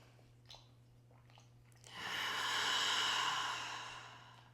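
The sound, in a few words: deep breathing in through the nose during yoga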